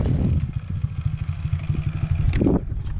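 A motorcycle engine pulls through circle drills, a mid-pitched motor giving a steady pulsing chug that rises in a short rev near the end, fairly close, with no talking.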